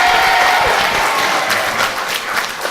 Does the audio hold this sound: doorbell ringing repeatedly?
no